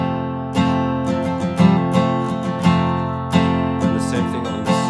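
Close acoustic guitar playing a down, down, up, down, up pattern with a hammer-on before a down strum, chords ringing between crisp strum attacks in a steady rhythm.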